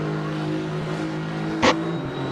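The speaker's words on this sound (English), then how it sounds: "now that is a drag race. That is BMW against Aston" BMW and Aston Martin GT4 race cars in a Le Mans sim-racing drag race, their engines droning steadily at high revs, with one brief sharp burst partway through.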